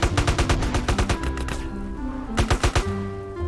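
A jet in the GTA Superwings game fires its guns in loud rapid bursts, with a short pause midway before the firing resumes over a steady engine whine.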